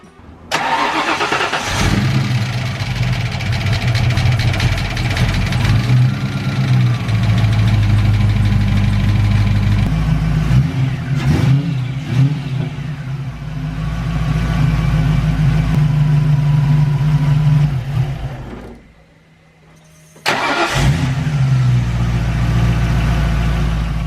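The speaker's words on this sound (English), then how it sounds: "Gonna go ahead and fire it up for the first time, see how it runs, and go from there" A freshly rebuilt Ford Mustang Foxbody engine, suspected of burning oil, cranks, catches and idles with a deep, steady rumble. It cuts out briefly, then restarts and settles back into a loud, even idle.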